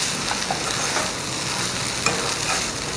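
Grated coconut being stirred into a pan of vegetable curry for mulankada pulusu and aratikai koora, with a steady close sizzle and soft scraping stirs throughout and one brief clink near the end.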